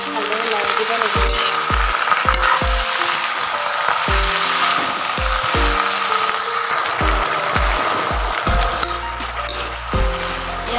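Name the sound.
potatoes and pui shak being stirred while frying in a pan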